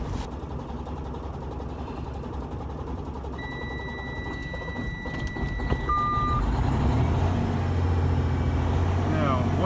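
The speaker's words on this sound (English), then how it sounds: "now we gotta start it up and rev it real good" A vehicle engine starting and revving after a fuel filter change, with a steady idle rumble that rises and grows louder toward the end, alongside beeping tones and a voice speaking.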